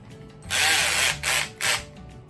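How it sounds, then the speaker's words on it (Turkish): A power drill bores a 10 mm deep hole into a wooden base plate for a cross cut sled, with three close bursts of whining spin: one long, then two short. "Sadece 10 mm deleceğim."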